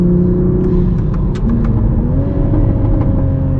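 A 2021 Toyota Supra on a canyon drive, its engine droning loud and close from inside the car, with shifting pitch as revs change and short sharp bursts that fit turbo blow-off.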